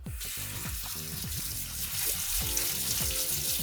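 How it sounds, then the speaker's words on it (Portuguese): Soaked walnuts are rinsed under running tap water, giving a steady close splashing stream with small clattering knocks of nuts moving in the water. "Então agora a gente vai tirar essa água e lavar bem ela com água corrente."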